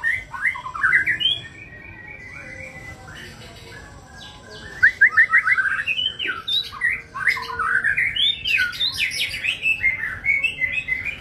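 A murai, a magpie-robin type songbird kept in a cage after moulting, sings close by in rapid varied phrases of bright whistles, chirps and harsh squawky trills, with a soft noisy background.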